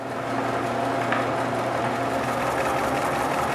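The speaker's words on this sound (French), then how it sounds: "Puis je peux essayer de faire tourner ma scie pour la première fois." A homemade wooden band saw runs for the first time at a steady, loud, continuous whir with a constant mechanical hum and no pauses or voices.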